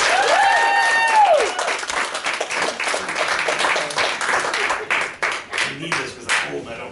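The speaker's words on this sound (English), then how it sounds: "So you guys give a round of applause for Mike Murray." A live show audience claps for comedian Mike Murray, loud and full at first, then thinning into scattered individual claps that trail off, with a brief vocal tone at the start.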